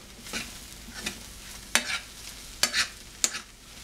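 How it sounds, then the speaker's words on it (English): Beans frying in a pan are stirred with a utensil, giving a soft sizzle under sharp scraping strokes that come at irregular intervals, several distinct scrapes standing out close by. "I'm just going to stir that in real good."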